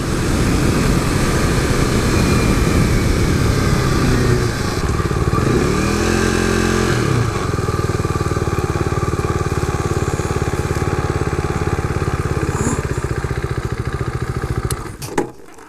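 A modded 2015 KTM RC 390 motorcycle is ridden hard, its engine roaring loudly and steadily with a rising rev sweep midway before the sound eases near the end.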